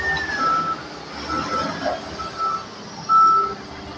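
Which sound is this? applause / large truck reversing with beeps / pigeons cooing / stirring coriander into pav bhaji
large truck reversing with beeps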